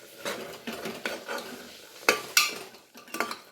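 Masala spices roasted over a medium flame while a spoon stirs them in a pan, repeated scraping and clinking strokes with sharp metallic knocks over a light sizzle, close and uneven.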